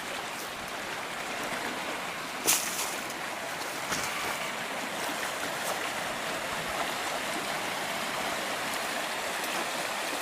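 A creek runs steadily past old sagebrush near a bridge, its deep, cold water making a continuous broadband rush close by, with one brief sharp knock early on and no voices.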